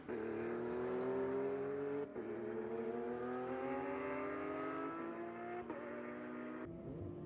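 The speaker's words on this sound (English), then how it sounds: "Ren really revs that 2007 Porsche" A 2003 Porsche Cup race car on a track revs hard and continuously, its engine note climbing through gears with brief shift breaks, loud and close with no talk.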